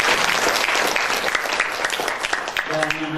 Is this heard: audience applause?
yes